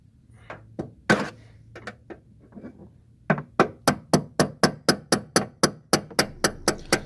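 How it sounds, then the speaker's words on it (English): Several scattered knocks, then a steady run of about a dozen sharp, evenly spaced hammer blows striking a stubborn plastic part on a 2017 Dodge Challenger, close by, with no talking. "Sometimes these things are stubborn and you just gotta break them off by hammering them in a little bit"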